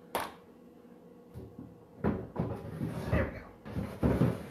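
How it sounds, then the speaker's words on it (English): A wooden drawer in a painted buffet is worked back into place, with a series of close, hollow knocks and scraping thuds in irregular bursts between quieter moments. "I'm going to put the drawer back in now though."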